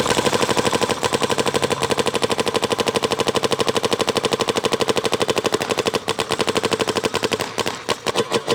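A Macdev Prime XTS paintball gun fires in long rapid bursts outdoors, a loud, dense stream of sharp pops that stutters into a few separate shots near the end.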